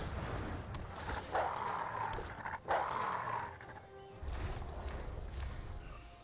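Growling, snarling dog sound effect triggered by playing the Ferocious Pup card in the MTG Arena digital card game, a few rough bursts over a low, steady backdrop.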